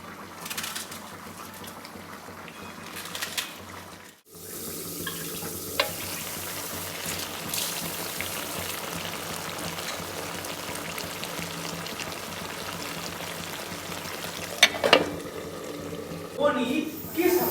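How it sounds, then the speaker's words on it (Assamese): Pork with bitter gourd boiling in a pan, a continuous bubbling and sizzling bed with occasional stirring clatter and a brief drop-out, with a voice heard faintly at times. "এতিয়া ইয়াত পূৰা উতলি আছে বকবকি দিছে"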